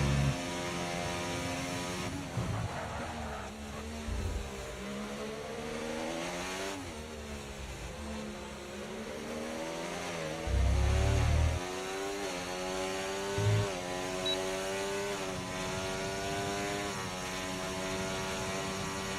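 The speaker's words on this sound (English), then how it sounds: "By going into Race Director, it seems to have fixed the audio, so at least for the last 14 laps you can hear your engines" Racing car engines in F1 24 at the Great Britain circuit scream steadily throughout, pitch sweeping up and down through gear changes and corners, with a few louder bursts as cars pass.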